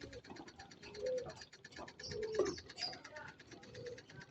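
Pigeons cooing softly in a loft, low repeated throaty coos scattered through a quiet, slightly busy background with faint rustling.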